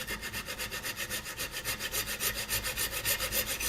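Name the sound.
coping saw with metal cutting blade cutting a pin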